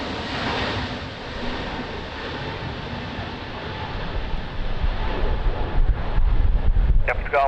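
Strong crosswind sweeps across Lisbon Airport, a steady rumbling roar of wind buffeting the microphone that grows heavier and gustier in the second half.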